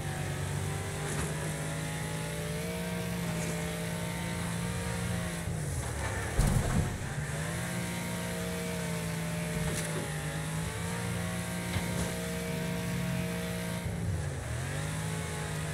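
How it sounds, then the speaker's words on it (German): Car engine in the racing game Wreckfest screaming at high rpm, a steady loud whine held throughout with brief dips as gears shift, plus a short burst of impact or scrape noise midway. "ich fahre gerade ziemlich hochtourig"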